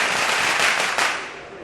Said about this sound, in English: firecrackers going off everywhere at the moment now.